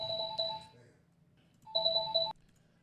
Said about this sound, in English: I got phone calls coming in